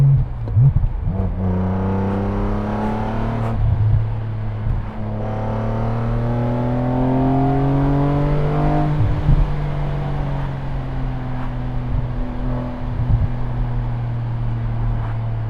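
A BMW M car engine revs steadily and loudly, its rising and falling harmonic tones sweeping up and down over a continuous low drone, with no talk over it.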